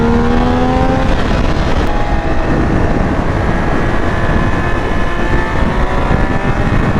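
A 2022 Triumph Speed 1200 RR sport motorcycle engine screams loudly on a race track, continuously high-revving with rising and falling pitch sweeps, heavily buffeted by wind rushing over the microphone.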